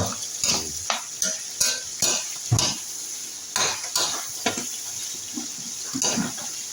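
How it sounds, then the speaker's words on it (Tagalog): Vegetables being stirred and sautéed in coconut oil in a home kitchen pan, a steady run of scraping utensil strokes against the pan over a soft sizzle, close and fairly loud. "Haluin din natin ngayon to"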